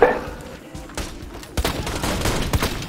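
Rapid bursts of turret gunfire in the Borderlands video game, loud and close, with sharp shots clustered after a brief lull and continuing to the end.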